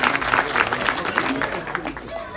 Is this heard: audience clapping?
yes